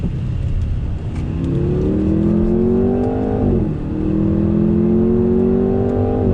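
A 2020 Jaguar F-Type sports car engine drones loudly while downshifting under braking, its pitch sliding down, briefly dipping, then rising and falling again as gears change, close and continuous.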